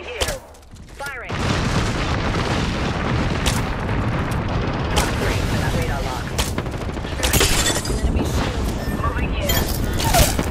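Weapon fire in the video game Apex Legends, sustained heavy shooting and booming blasts filling the whole stretch, loud and dense, with a character's voice lines mixed in.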